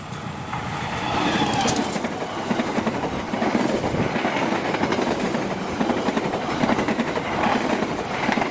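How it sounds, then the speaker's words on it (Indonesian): Berantas 110A passenger train rolling past steadily at close range, a broad loud rumble of wheels and carriages holding for the whole stretch with faint rhythmic clatter. "Barusan lewat kereta api Berantas 110A"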